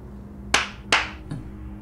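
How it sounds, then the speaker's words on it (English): Two loud, close hand claps followed by a softer third, aimed at a clapper light switch in a quiet room. "you know the thing where you clap and the lights turn on and off"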